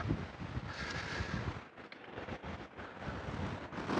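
Strong wind buffets the microphone beside a Warré beehive in winter with a continuous rushing roar, rising and dipping in gusts.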